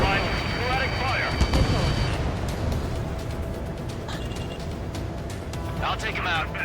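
Scattered gunfire in the air-combat game Ace Combat 7, loose irregular bursts heard under a dense wash of battlefield noise and engine roar, with radio voices talking over it.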